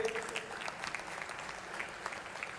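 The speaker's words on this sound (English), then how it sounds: "Please give a round of applause to him." A room of attendees at a university entrepreneurship summit's inauguration ceremony claps in a steady round of applause, moderately loud and continuous throughout, with faint crowd murmur beneath and no clear speech.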